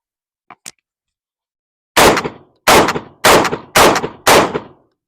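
A Tokarev TAR12 shotgun fires 7.5 small game shot in five loud, sharp blasts at a steady semi-automatic pace, each one cycling cleanly. Two faint clicks come just before the first shot.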